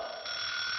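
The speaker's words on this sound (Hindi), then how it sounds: "अरे सुबह सुबह ये अलार्म क्यों बजने लगा?" An alarm clock rings in the morning, a steady, loud electronic tone sounding continuously and close by, growing slightly brighter partway through, with no talking over it.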